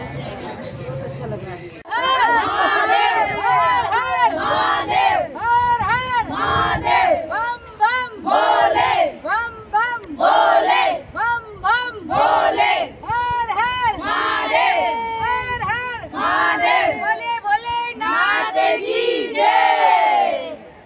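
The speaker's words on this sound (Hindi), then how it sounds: "बहुत भीड़ श्रद्धालु आए हुए हैं यहाँ" A huge crowd of pilgrims on the Kanwar Yatra at Gangodbhav Kund roars in rhythmic, repeated chanting and shouting, loud and continuous, with chatter running underneath.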